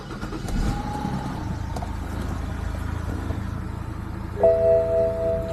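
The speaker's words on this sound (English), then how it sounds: "try to start the engine real quick" A BMW E60 engine cranks and catches, a low rumbling idle running steadily for several seconds before a brief chime rings out over it, close and fairly loud.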